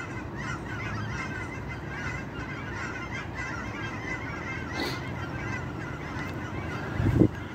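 Geese honk as they fly over an open field, their repeated calls faint and distant over a steady outdoor background. A brief louder thump comes near the end.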